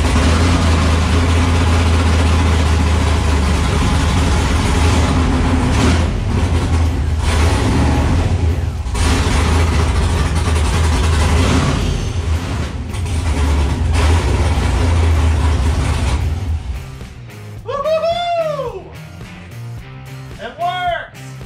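A Camaro V8 after a V6-to-V8 swap runs with a loud, steady low rumble under a person talking, then settles and gives a few sharp throttle blips near the end.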